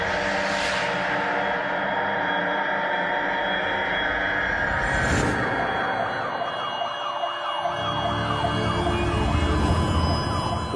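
An ambulance siren wails loudly and close by, its pitch sweeping up and down in repeating cycles over a rumbling vehicle engine, with no voices.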